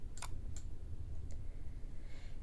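Several quiet mouse clicks sound as someone works in a Jupyter Notebook on a computer, a few sharp isolated ticks over a low hum.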